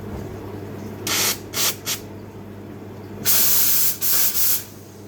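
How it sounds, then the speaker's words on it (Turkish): Espresso machine steam wand heating and frothing milk, with close, loud hissing bursts: three short spurts early on, then a longer sustained blast followed by two more spurts over a low steady machine hum. "buhar buhar veriyor, sütü ısıtıyor."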